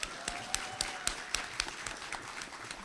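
Applause fills the hall at a KDI School commencement ceremony as an ambassador takes the stage. The clapping is moderate and fairly distant, with a few sharp individual claps standing out over a steady patter.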